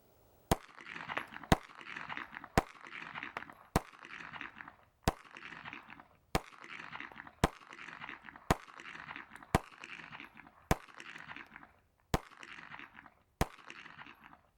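A Jimenez Arms JA Nine pistol fires Federal 115 grain FMJ ammunition at a range: about a dozen loud, sharp shots at a steady pace roughly a second apart, each trailing a short echo, with no talking.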